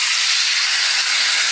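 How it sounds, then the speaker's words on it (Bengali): Water hits a hot cooking pan while making kochu mukhi curry and sizzles with a steady, loud, bright hiss throughout. "এবার আমি এর মধ্যে দিয়ে দেবো এরকম জল।"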